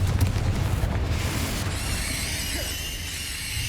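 A Confringo blasting spell goes off in Hogwarts Legacy with a loud, close boom in the first second or so. A fading rumble and a high shimmering tail follow it.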